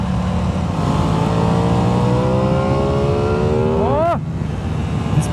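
A 2021 Aprilia Tuono 660 motorcycle accelerates hard, its loud engine note climbing steadily through the revs before a sharp gear change, then settling back into a strong drone.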